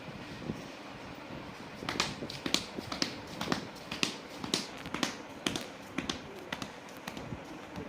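A teacher imitates a horse's clip-clop hooves with a steady run of sharp, close clicks or taps repeating in an even trotting rhythm for several seconds, without speech.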